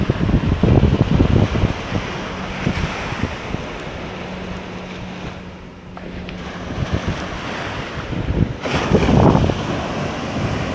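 Waves wash in at Pirates Cove Beach in Carlisle Bay, Barbados, a loud, close surf hiss that rises and ebbs, with wind gusting on the microphone and a faint steady hum partway through.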